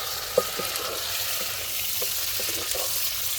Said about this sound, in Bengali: পেঁয়াজটা ভাজা ভাজা হয়ে গেছে, এখন এই যে আলু কেটে রাখছি, আলুটা দিয়ে দিব।